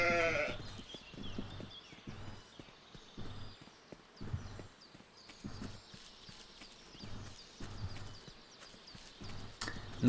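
Sheep bleating in the survival video game Force of Nature, faint and quiet, mixed with regular rhythmic footstep-like thuds throughout.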